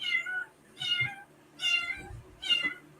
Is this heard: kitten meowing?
yes